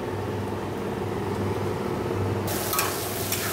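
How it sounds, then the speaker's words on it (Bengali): Cumin seeds and dried red chillies hit hot oil in a pan after fish frying, giving a steady close sizzle that turns brighter and crackling partway through, with no talking. "এবার আমি জিরে শুকনো লঙ্কা ফোড়ন দিয়ে দেবো"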